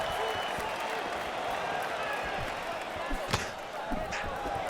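A steady roar from an arena crowd in the UFC 5 fighting game, cheering through a middleweight bout, with a few sharp thumps and slaps on top and commentary mixed in.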